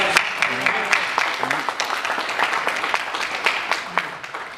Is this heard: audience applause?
yes